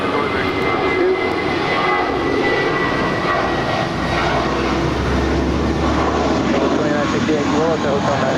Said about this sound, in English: That was Spirit Airlines Flight 1023 heading to Chicago